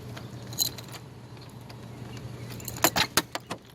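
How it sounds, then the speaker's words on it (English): Keys jangle in a door lock: a short metallic rattle early on, then a denser cluster of bright clinks and knocks near the end, close and fairly clear over a low steady hum. "Look at the keys in the door."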